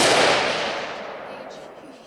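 A single loud report from a Savage MSR15 Recon rifle firing hand-loaded ammunition opens the clip, followed by a long broadband echo that fades over about two seconds.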